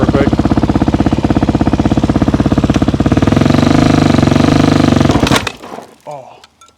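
A 2024 Beta motorcycle engine runs loud and close in a rapid steady chug that swells as the bike pulls away, then cuts off abruptly into quieter after-noise.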